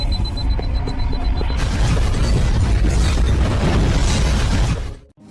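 A bomb goes off in an action film scene, a loud continuous roaring blast with heavy low rumble that fills about five seconds before cutting off abruptly.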